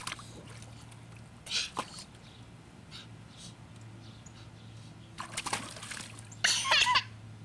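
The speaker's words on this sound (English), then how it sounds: "Splashing." Water splashing in short, separate bursts, a couple early and a louder, longer splash near the end, over a steady low hum, with no clear talking.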